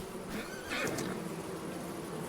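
A single horse whinny from Farming Simulator 25 rises briefly over a steady hiss of background noise, fairly faint and somewhat distant.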